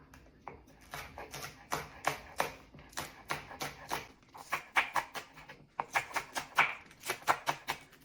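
Vegetables being chopped for ackee and saltfish: a steady run of quick, crisp knife strikes on a board, close and moderately loud, with a short pause before the rhythm picks up again.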